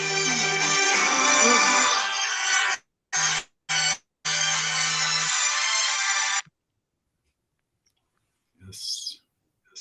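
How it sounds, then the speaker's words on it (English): A phone ringtone rings loudly and continuously for several seconds with brief gaps, then stops, followed by a short faint sound afterward. "My phone rang."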